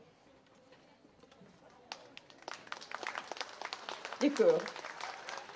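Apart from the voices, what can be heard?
audience applause for children's folklore ensemble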